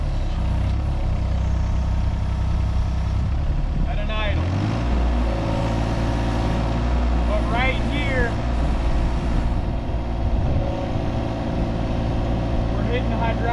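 A 6,000-pound mini excavator engine idles steadily with a low, constant diesel hum throughout, while a person talks over it.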